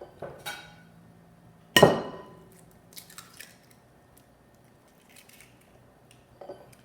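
Eggs for a bacon bell pepper quiche cracked one at a time against a bowl, with a single sharp crack standing out, then faint clinks and taps of shell and glass in a quiet kitchen.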